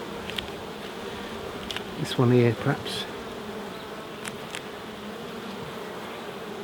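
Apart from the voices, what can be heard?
honey bees buzzing in an open hive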